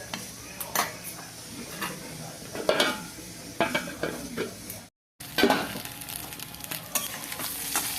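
Small fish, previously kept in the fridge, fry in a pan with a busy, crackling sizzle, punctuated by frequent stirring and utensil clinks against the pan; the sound briefly cuts out midway.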